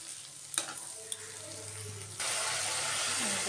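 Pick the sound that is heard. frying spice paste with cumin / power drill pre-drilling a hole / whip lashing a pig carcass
frying spice paste with cumin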